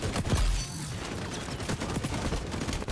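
Rapid assault rifle fire from an MDR in the shooter xDefiant, a dense run of loud, close shots that continues through most of the moment with no talking over it.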